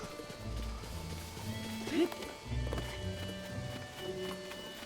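Horses in a stable in a Zelda video game give a brief neigh around the middle, with soft hoof and snort sounds, while a person talks over them.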